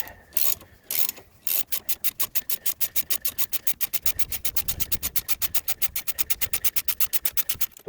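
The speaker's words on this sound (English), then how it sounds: "we're going to use a ratchet and hope that she doesn't put up too much of a fight" Ratchet wrench clicking steadily while loosening a part on a Foxbody car, a close, loud, rapid run of sharp ticks after a few heavier bursts at the start.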